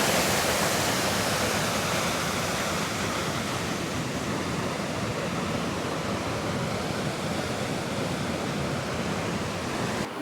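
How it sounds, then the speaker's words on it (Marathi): Channat waterfall, a hidden cascade at Satkund, roars in a steady, loud, unbroken rush of falling water with no voices. "पुन्हा एकदा पहा तसं मस्त वॉटरफॉल दिसतो"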